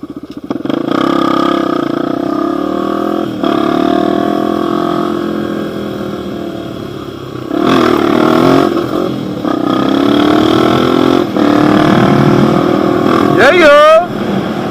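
Honda XR250 dirt bike engine revving loud and close through second-gear wheelies, sustained roaring pulls broken by brief throttle lifts, ending with a sharp rising rev.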